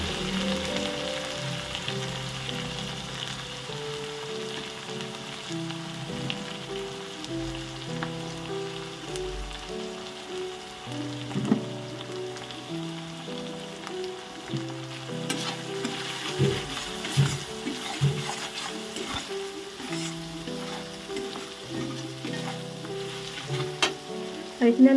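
Green jackfruit kofta mixture frying in a pan, browning in oil before salt and turmeric go in, makes a continuous close sizzle with intermittent stirring scrapes and spoon knocks against the pan, no talking.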